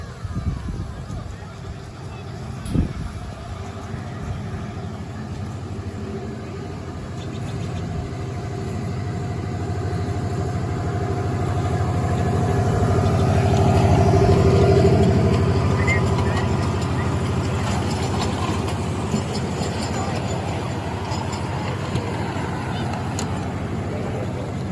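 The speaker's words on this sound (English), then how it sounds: "Amtrak, diesel Amtrak locomotive." An Amtrak F69 PHAC diesel locomotive runs at a busy Molalla, Oregon train park on Labor Day weekend, its low engine rumble swelling as it passes and then easing, with someone talking over it.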